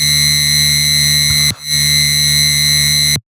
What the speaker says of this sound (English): This note that's playing is super high. It's a D3.